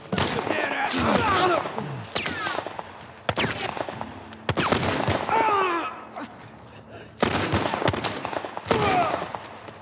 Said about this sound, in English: Ellie did shoot.